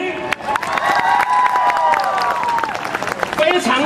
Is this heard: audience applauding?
yes